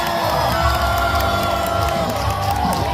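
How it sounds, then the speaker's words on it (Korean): A large outdoor crowd at Lee Jae-myung's presidential campaign rally at Yatap Station roars and cheers in a loud, continuous swell of shouting and whoops that never lets up. "함성과 박수 부탁드립니다"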